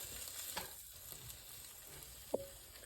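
French toast sizzling in a hot pan, a soft steady fry with faint crackles and one brief clank of a utensil near the end; no voices.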